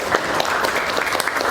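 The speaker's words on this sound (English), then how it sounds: "so let's give them an open round of applause." Applause from an audience at a panel event greeting expert panelists, loud, dense and steady clapping filling the whole short moment with no talk over it.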